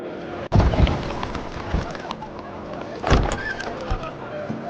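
Someone climbs out of a car, with a sharp thud of the car door near the start and another muffled clunk and rustle a few seconds later, set against steady outdoor ambience.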